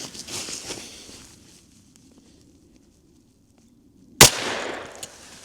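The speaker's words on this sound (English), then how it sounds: "All right, that's a much better shot." A single 10mm Buffalo Bore 180-grain round fired outdoors, one sharp, loud crack near the end after a quiet pause, preceded by faint shuffling.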